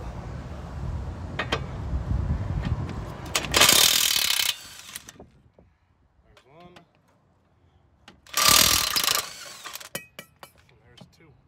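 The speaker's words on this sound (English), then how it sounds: "Now let's get these two bolts loosened up." Ratchet wrench loosening the brake caliper bracket bolts on a Kia Forte, with two loud, sustained bursts of rapid clicking close by, separated by quieter handling noises and brief talk.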